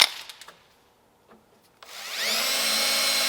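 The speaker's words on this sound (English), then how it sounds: "We're about to drill the 2 holes for the intercooler to mount this side of the intercooler to our new bracket we just made." A power drill bores two holes into a freshly made metal intercooler mounting bracket for a Ram 1500 supercharger install; a few brief taps and scrapes come first, then the drill whines steadily and loudly, close by and alone.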